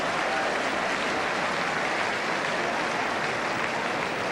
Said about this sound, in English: Applause for both the pass and the attempt to collect.